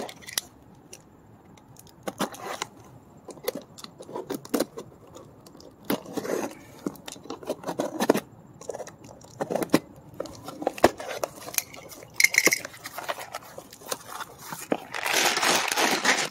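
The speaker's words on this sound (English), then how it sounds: "Let's open up the box." Cardboard box holding a Powerbuilt hydraulic bottle jack being opened by hand, heard as scattered close crinkles, taps and rustles, irregular and moderately loud, building to denser rustling near the end.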